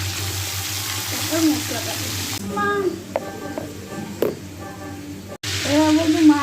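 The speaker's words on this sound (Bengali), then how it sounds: "আগে একটু আলু ফুলকপিগুলো ভেজে নিচ্ছি" Potatoes and cauliflower sizzling and frying in a pan, a steady close crackle with stirring and clinks, while someone speaks over it.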